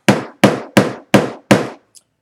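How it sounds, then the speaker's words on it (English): A small hammer tapping a metal zipper stop tight on a sewn overnight bag over a rubber pad: five sharp, evenly spaced close knocks, each decaying quickly, followed by a faint tiny click. "And then I'm going to use my little hammer"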